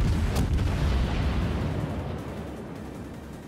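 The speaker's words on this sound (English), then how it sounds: "I'm not gonna stop firing. Just keep shooting at Dead Zone." Naval gunfire in the World of Warships video game rolls as a heavy, booming, continuous rumble with a sharp report near the start, loud and dense, slowly easing in level and with no voices over it.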